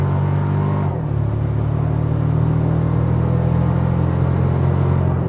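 A 2025 Toyota Tacoma Trailhunter pickup accelerating at half throttle, its engine holding a steady low droning rumble with one brief dip near the start before settling back, loud and continuous, with no talk.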